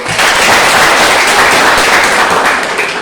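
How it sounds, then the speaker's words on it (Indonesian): Sustained applause fills a classroom, dense and steady, with many students clapping together for about three seconds without anyone speaking. "Saya lagi berikan aplaus untuk"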